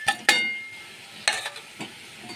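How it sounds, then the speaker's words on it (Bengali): A spoon stirs salt, sugar, tomato, dried chilli and turmeric into khichuri in a pan, giving a few sharp scrapes and clinks, a pair at the start and more later, over a faint sizzle. "ভালো করে নেড়ে নেবো।"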